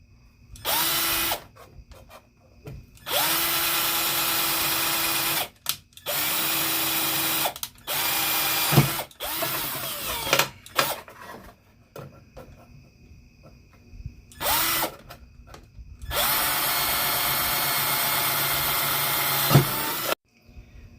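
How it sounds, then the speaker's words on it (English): A power drill bores holes into the corners of a tin while a mini pocket stove is built, running in several loud, steady whining bursts separated by short pauses and clicks. "Now we have to drill the holes in the corners for our Chicago post."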